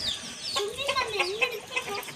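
Village chickens cluck softly at feeding time, a few short, rising clucks and chirps over quiet background noise.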